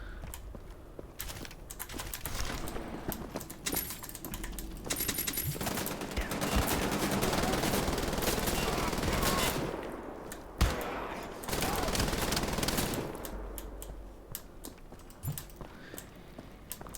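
Bursts of automatic gunfire in Wolfenstein: The Old Blood during a boss fight, loud and close, rattling in long volleys with short pauses and sharp impacts, mixed with game sounds and a voice speaking now and then.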